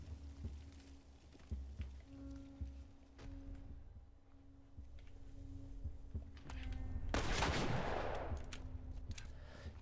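Gunfire from a weapon in The Last of Us video game cracks out in a few scattered shots over a low game hum, followed by a loud burst of noisy blasts near the end.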